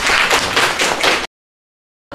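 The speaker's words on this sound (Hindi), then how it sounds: "इनके लिए तालियां बजाइए" Schoolchildren in a coaching-centre classroom clap together for classmates' correct answers, a short burst of lively applause lasting about a second before cutting to silence.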